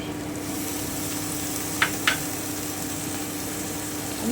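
Pointed gourd fries in a pan over medium heat with a steady, even sizzle, and two quick clinks sound partway through. No one speaks.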